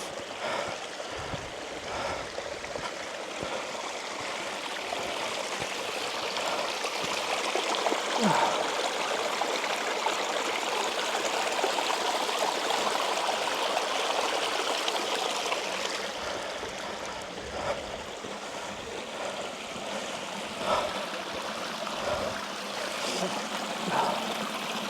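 Mountain stream on Ben Nevis, continuous rushing and trickling water heard up close for the whole stretch, steady and fairly loud with slight surges and a few faint knocks.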